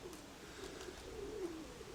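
One faint pigeon coo rises and falls near the end against a low, steady rush of strong wind, distant and soft with no voices.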